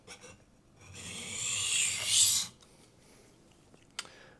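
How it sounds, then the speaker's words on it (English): A kitchen knife drawn in alternating edge-leading deburring strokes across a diamond sharpening stone, a close, steady gritty rasp building for about two seconds, then a few faint scrapes and a small click. "the deburring begins, which is what I'm going to be doing now. So alternating edge leading strokes."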